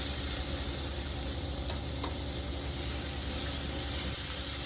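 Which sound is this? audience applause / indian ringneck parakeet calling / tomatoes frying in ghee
tomatoes frying in ghee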